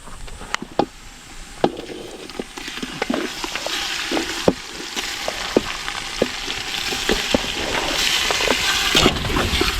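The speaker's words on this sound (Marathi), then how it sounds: "आता आपण त्याच्यात चिकन टाकतोय" Turmeric-coated chicken goes into a pan of hot garlic and onion and fries with a constant sizzle, punctuated by sharp clanks and scrapes of a spoon stirring against the pan.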